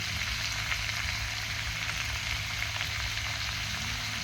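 Mixed vegetables sautéing in a pan with ginger paste and chilli, a continuous dense hiss of frying at low, even volume with a faint steady hum beneath, no voices.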